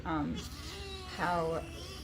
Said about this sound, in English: I just got a cat. He's crying.